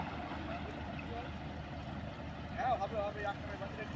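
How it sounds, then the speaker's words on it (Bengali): Motorboat engine droning as a boat passes by on a waterway in the Sundarbans on a winter morning, a low rumble that swells slightly near the end while someone talks over it. "এই যে দেখুন বোট চলে যাচ্ছে"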